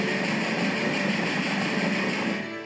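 A train running in the video game Railway Empire 2, a steady low rumble of wheels and engine that holds at an even level throughout before easing slightly at the end.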